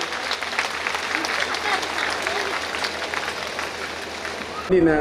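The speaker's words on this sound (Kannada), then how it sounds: "ಜೋರಾದ ಚಪ್ಪಾಳೆಯೊಂದಿಗೆ" Loud, sustained applause from an audience at an event in Mangaluru, steady dense clapping that fills the whole stretch before a brief break near the end.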